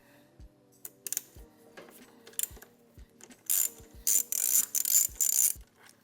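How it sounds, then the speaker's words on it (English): A hand ratchet works a clamp bolt loose on a Honda CB360 motorcycle with short, close clicking strokes. Quiet taps come first, then louder, sharper bursts of ratcheting near the end. "let's take off this clamp here. Let's get it loose. Got a mount bolt back here."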